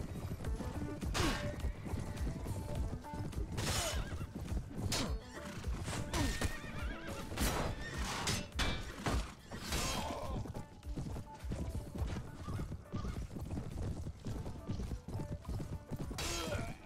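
Cavalry horses in a Mount and Blade Warband battle neigh and whinny again and again over busy galloping hoofbeats and clashing combat, loud and crowded throughout.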